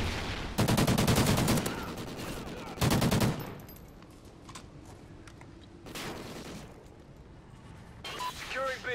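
Rapid automatic gunfire in a 4v4 Domination match of a multiplayer shooter comes in two loud sustained bursts, then sparser distant shots, with voices speaking between them.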